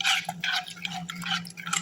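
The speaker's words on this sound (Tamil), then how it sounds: "ஊற்றிட்டு நல்லா கட்டி முட்டி இல்லாமல் கலக்கி அப்படியே ஒரு ஓரமாக வச்சிடலாம்." Ragi flour and water being stirred in a vessel, soft scraping and swishing strokes repeating in quick bursts, close but quiet over a low background hum, no talking.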